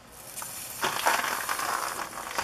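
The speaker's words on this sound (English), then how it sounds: "Hear the water sizzling on it." Water poured onto a heated, rusted bolt on a second-generation Nissan Xterra gives a sudden steady hissing sizzle. It swells after a short lead-in and keeps going, close and fairly loud, with nobody talking.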